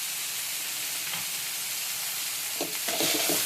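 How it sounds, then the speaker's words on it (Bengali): Boiled potatoes frying in a pan with chili flakes, a dense continuous sizzle close up, with a few stirring scrapes near the end. "এখন আলুটা দিয়ে দেবো, সিদ্ধ করা আলুটা।"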